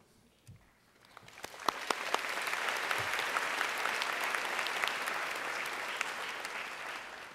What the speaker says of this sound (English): We don't know yet if he deserves the applause